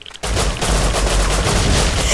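Sustained automatic gunfire in the survival video game Rust, a dense continuous burst of rapid shots starting abruptly and staying loud throughout, with no talk over it.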